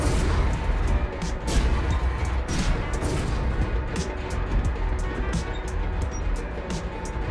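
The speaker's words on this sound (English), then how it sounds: "The loud banging and smashing of the metal is most definitely more than enough to notify anyone in the city that I am here" Heavy metal stairs lowering in the video game Dishonored, a loud, continuous clanking and banging of metal with repeated sharp crashing impacts.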